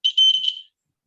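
A battery-powered electric alarm buzzer in a classroom demonstration gives one short, loud, high-pitched electronic beep lasting about half a second, then cuts to silence.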